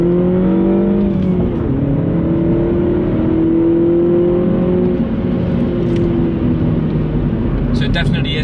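Mini Cooper S F56 fitted with a cheap eBay aftermarket exhaust, its engine running close by in a loud, sustained drone that rises and falls in pitch as the revs change, with a few faint clicks near the end.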